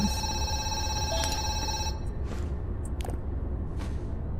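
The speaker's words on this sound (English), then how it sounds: "Oh, a phone." A telephone rings in the horror video game Zoochosis, a repeated electronic trill over a dull background hum, fading out after a couple of seconds with soft footsteps and bumps following.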